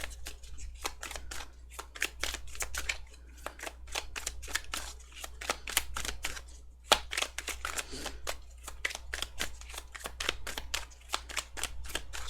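A deck of tarot cards is shuffled in rapid, crisp riffling bursts, continuous and close, with brief pauses between runs.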